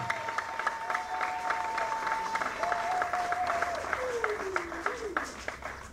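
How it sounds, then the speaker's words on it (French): An audience at a political party press conference claps steadily throughout, a dense, continuous patter of many hands with a faint tonal whine running beneath it. "On peut quand même acclamer, nous allons battre le record."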